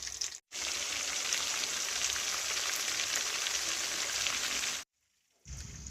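Chicken frying in hot oil: a steady, loud, dense sizzle that holds for about four seconds, drops out briefly, then resumes near the end.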